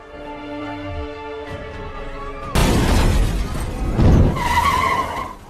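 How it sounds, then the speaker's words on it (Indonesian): A car explosion in a film: a car sound builds, then a sudden loud blast erupts with crashing, shattering debris and rumbling that continues to the end. "mobilnya pun meledak dan membuat dirinya tewas seketika"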